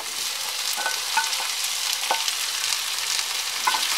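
Onions and tomatoes frying and being stirred in a pan over a medium flame, a steady close sizzle broken by a few soft scraping stirs.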